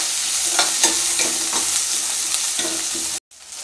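Onions and dried red chillies sizzle steadily in a hot pan with a loud hiss, broken by a few scraping stirs before it cuts off near the end.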